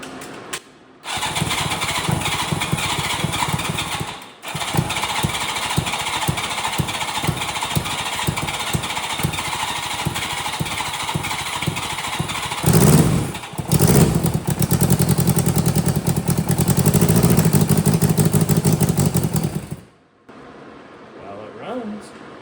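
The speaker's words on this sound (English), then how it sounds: "I guess we'll see if it's gonna start." A street-bike engine swapped into a lawn mower cranks with rapid, even starter pulses for about twelve seconds, catches and revs loudly, then drops to a quieter idle near the end.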